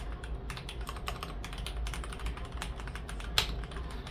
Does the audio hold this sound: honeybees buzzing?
no